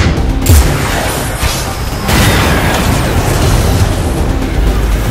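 Tau railgun broadside in Battlefleet Gothic Armada, a loud, dense space-battle boom that swells and crashes in a sustained roar with a sharper burst partway through, close and heavy.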